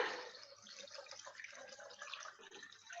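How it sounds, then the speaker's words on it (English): Liquid is poured through a sieve into a jar in a continuous splashing trickle for a few seconds, fairly quiet, with no voices. "And you just pour it straight into your jar."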